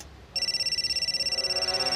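A telephone starts ringing abruptly after a short quiet moment, a loud, fast warbling electronic ring that pulses evenly and continues without a break.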